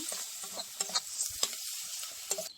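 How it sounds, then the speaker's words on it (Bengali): Spice masala with turmeric powder stir-fried in a pan for a green banana and fish kofta curry: a close, steady sizzle broken by sharp spatula scrapes and clicks against the pan, with no speech. "মশলাটা খুব ভালো করে কষিয়ে নেব"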